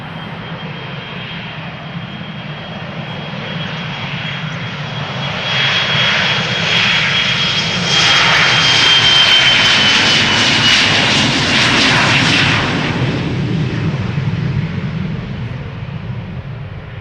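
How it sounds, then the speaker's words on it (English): A KLM Embraer 175 regional jet departs Schiphol for Bristol, its steady engine roar building to a loud peak midway with a faint whine on top, then easing off while still rumbling; no one speaks. "Another rare Embraer KLM going to Bristol."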